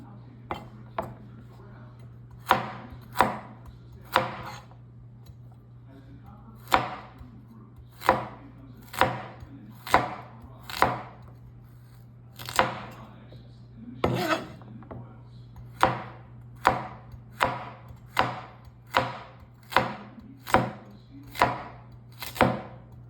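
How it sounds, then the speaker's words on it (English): A knife chopping pork shoulder into roughly inch-sized chunks on a board, about twenty sharp, close thunks in an uneven rhythm with brief pauses between cuts. "I am cutting the thicker pieces a little bit shorter just so they'll cook better."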